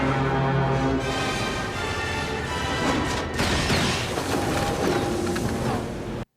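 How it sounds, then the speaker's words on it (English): A dense, roaring rumble with crashing bursts swells and churns continuously, loud and close, as three large spice containers plunge into hyperspace in a booming sci-fi whoosh from Star Wars: The Clone Wars. "that is the sound of 3 very large containers of spice being dropped into hyperspace"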